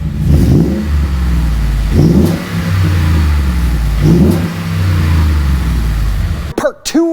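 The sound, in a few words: Ford F-150 engine revving through JBA dual exhaust headers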